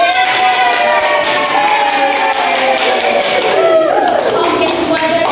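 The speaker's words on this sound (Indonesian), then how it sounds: "Tepuk tangan." A classroom of schoolchildren breaks into rhythmic group applause, loud and close, with young voices chanting and calling out over the clapping.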